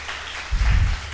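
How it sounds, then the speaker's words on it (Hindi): A congregation claps hands together in thanks to God during a church Bible study, producing a short burst of dense clapping at moderate loudness, with no talking over it. "या ताली बजाकर परमेश्वर को धन्यवाद दे सकते हैं"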